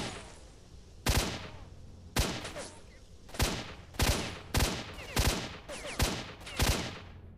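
Gunfire in S.T.A.L.K.E.R.: Shadow of Chernobyl, in the Red Forest: a steady run of about eight loud single shots at roughly even intervals, each a sharp crack with a short decaying tail over a low ambient rumble.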